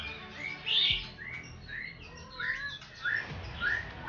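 A female white-rumped shama (murai batu) gives a series of short, bright chirps and whistles, close and fairly clear, spaced irregularly over a quiet background.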